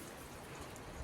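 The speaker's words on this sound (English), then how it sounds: "the weather is raining, cloudy, and about 44 degrees" Steady early-morning rain falling outdoors at about 44 degrees Fahrenheit, a soft even hiss of drops with no voices, heard along a walking trail near Putna.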